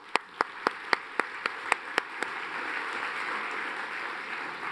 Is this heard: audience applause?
yes